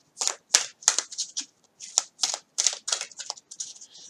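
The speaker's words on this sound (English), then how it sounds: "it's going to take a bit of shuffling, I think, with it to really connect" An oracle card deck being shuffled by hand, a run of crisp riffling bursts with short pauses between them, close and clear with no talking.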